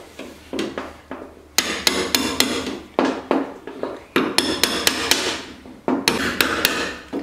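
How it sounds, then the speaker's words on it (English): A hammer strikes a chisel again and again to free a rusted steering bearing on a YZ250 dirt bike, with sharp, loud metallic blows coming in uneven bursts and short pauses. "I'm going to take a chisel and kind of chisel around the edge to try to get it off of there."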